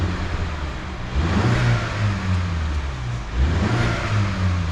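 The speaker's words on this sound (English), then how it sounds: "So you can actually hear the turbos spooling up there. You're giving a little chirp of wastegate chatter." MINI Cooper S five-door (F55) engine revved twice from idle, each rise with turbo spooling and a light chirp of wastegate chatter, heard close and loud with no talk.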